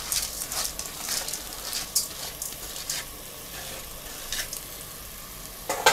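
Washed, drained rice is stirred into other stuffing ingredients in a pan, giving a close, moderate sizzle with repeated scraping stir strokes that pause briefly, then a louder scrape at the end.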